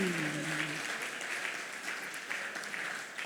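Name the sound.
audience applause for a panelist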